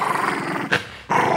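Dogs growling while getting a bath, a low rumbling snarl that breaks off for a moment and then resumes, close and fairly loud, with no talking.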